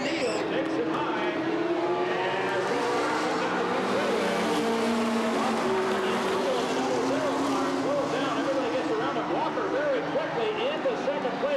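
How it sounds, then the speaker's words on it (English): Race cars circle an oval track at Redwood Acres Raceway in a 1989 race, engines droning steadily and loud throughout, with a commentator talking over the roar. "a question mark as to whether Markin will get off the race car"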